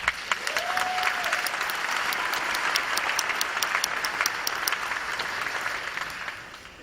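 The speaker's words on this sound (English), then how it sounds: "So I want to give you a round of applause." Graduation audience applauding steadily for several seconds at a Southland College Prep ceremony, dense clapping with scattered sharper claps, fading at the end, with a brief voice heard near the start.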